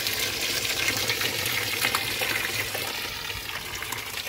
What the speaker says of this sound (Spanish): Aquí ponemos a llenar nuevamente el tanque